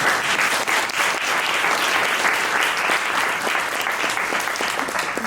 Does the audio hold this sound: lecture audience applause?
yes